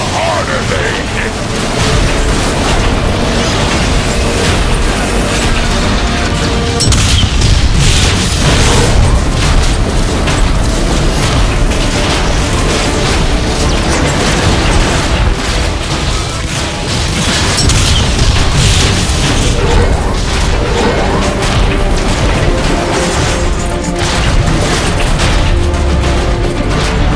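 Weapon fire and explosions in Transformers: Fall of Cybertron gameplay, a dense, loud barrage of booms, bursts and mechanical clatter that runs continuously, with voices shouting over the battle.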